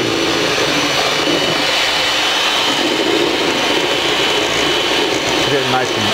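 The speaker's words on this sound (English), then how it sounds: "I still got the hand mixer like mom used to have" An electric hand mixer whips carrot cake batter in a kitchen, giving a steady, loud broadband whir that runs unbroken throughout, with no speech over it.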